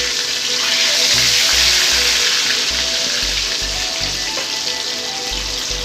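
Marinated eggplant pieces fry in hot refined oil in a pan, giving a steady, close, loud crackling sizzle throughout with no talking.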